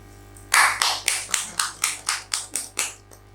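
Applause at an Indonesian tarot show: about ten distinct, evenly spaced claps ring out close and fairly loud in a steady rhythm, then stop.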